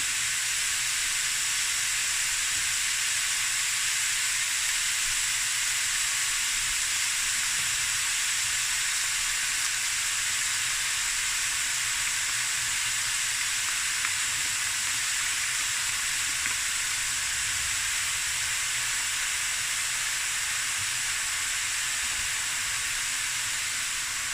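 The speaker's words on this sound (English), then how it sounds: "now it's just about browning it some more" Beef mince seasoned with salt, pepper, garlic, chili and ginger browns in a pan, giving a steady, unbroken sizzle and hiss that holds at an even level throughout, with no voices.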